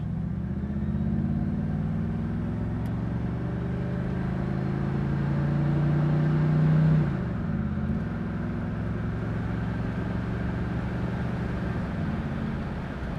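A 1968 Chevrolet Camaro convertible's engine pulls steadily and loudly from close by, its drone rising and dipping as it accelerates through a couple of gear shifts on the road.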